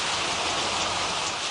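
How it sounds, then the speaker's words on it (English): Steady rain pouring down on a spring day at a community garden in Clay, New York, a dense, even hiss of drops striking surfaces with no voices. "How does the rain make you feel?"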